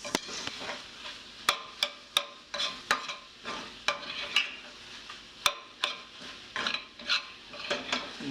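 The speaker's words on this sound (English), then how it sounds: "A good stir to make sure all the seasonings are mixed up through the whole thing." A spoon stirs seasoned breakfast burrito filling in a pan with the heat off, giving irregular sharp scrapes and taps against the pan over a soft, low sizzle, close and clear with no talking.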